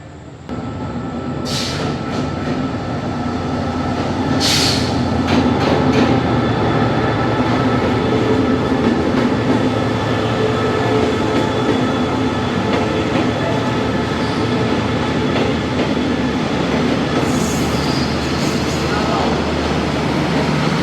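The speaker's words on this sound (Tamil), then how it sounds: "நான் போகிற ட்ரெயின் வருது பாருங்க." A train on the Thailand to Malaysia line pulls into a station with a loud, continuous rumble, rail clatter and brief wheel squeals, heard up close throughout as voices talk faintly underneath.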